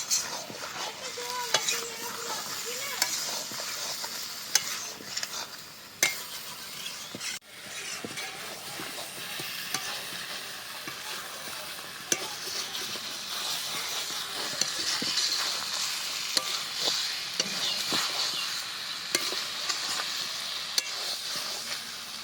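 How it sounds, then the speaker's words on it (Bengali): Chicken and potato pieces sizzle and hiss steadily in a hot pan while being stirred, the frying noise continuous and close, with scattered scraping clicks of a spatula and no voices. "এবার আলুটা দিয়ে দিচ্ছি। আবার খানিকক্ষণ কষাবো।"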